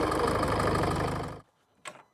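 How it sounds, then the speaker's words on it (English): A car engine runs with a busy, clattering idle for over a second, then cuts off abruptly into near silence, broken by two short, faint knocks near the end. "let's start the car and hear how it sounds without the ANCEL Super Starter"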